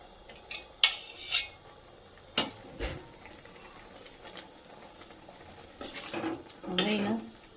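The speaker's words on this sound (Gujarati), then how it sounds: "આપણે પહેલાં બધી મલાઈ અંદર નાખી દઈએ." Milk cream being added and stirred into a pot of carrot halwa, with scattered metallic clinks and scrapes of a spoon against the pot, a few sharp knocks and a louder stirring scrape near the end.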